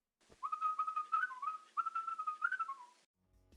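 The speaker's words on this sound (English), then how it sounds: "And then here's a human whistling 4 times faster." A human whistled tune is played back sped up four times, so the notes come as a rapid, chirpy, birdlike string of short slides, close and with no voices.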